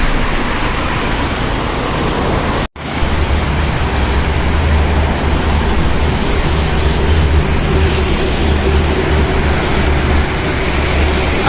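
Buses and heavy traffic roaring past on the Jakarta-Cikampek toll road at KM 28 near Cikarang Barat, Bekasi, in the late afternoon: a loud, continuous wash of engine and tyre noise close by, with one brief dropout.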